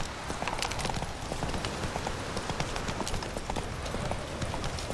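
Horse hooves clop in a quick, steady rhythm as a horse trots along in The Witcher 3, the hoofbeats dense and continuous, close and moderately loud, with no talk over them.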